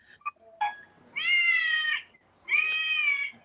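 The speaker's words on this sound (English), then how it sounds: "bunch of cats singing." A musical birthday card plays a song sung in cat meows: a few short electronic blips, then two long, loud, close, tuneful meow notes separated by a brief pause.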